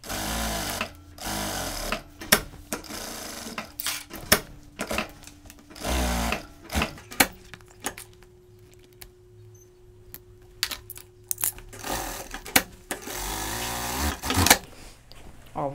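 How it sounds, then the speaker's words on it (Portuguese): A home sewing machine topstitches around the collar of a child's shirt, its rapid stitching whirring in close bursts separated by short pauses as the fabric is turned, with no talk. "eu vou contornar a gola toda com o pesponto final"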